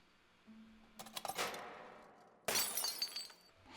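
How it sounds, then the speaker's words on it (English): A lantern smashes during a Harry Potter film scene: a loud glass shatter with scattering fragments, then a second bright crash of breaking glass after a short pause, with no talking. "smashing his lantern like that and almost getting caught"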